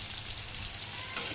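Brinjal frying in oil on a tawa, a steady close sizzle of hot oil running evenly throughout with a slight bubbling flare near the end.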